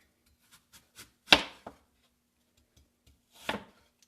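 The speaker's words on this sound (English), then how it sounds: "easy way to decore an apple when you're just dicing it is cutting around it" A knife cuts around an apple to dice it, producing a few quiet taps and two distinct firmer crunching cuts on a board, close and isolated with silence between.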